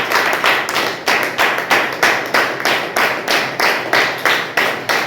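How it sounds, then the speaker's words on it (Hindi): A church congregation claps together during a Hindi sermon, a steady, evenly spaced rhythm of loud, crisp group claps that continues without talk. "ज्यादा ताली मत बजाओ, नहीं तो वो बच्चे लोग उठ जाएंगे।"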